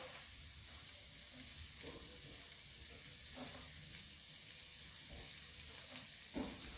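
Onion sizzles in a stir-fry pan for beef and vegetable stir fry, a faint steady hiss with soft intermittent stirring scrapes and taps, no talking.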